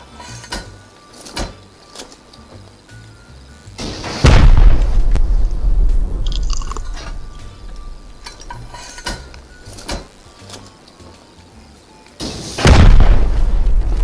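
Rocket explosions in a Rust raid: two heavy booming blasts, one around the middle and one near the end, each with a low rumbling tail over quiet game ambience.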